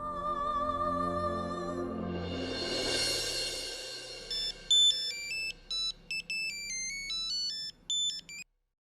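A phone ringtone in a Hindi TV drama: a soft swelling intro gives way to a loud, bright electronic melody of short beeping notes that stops abruptly.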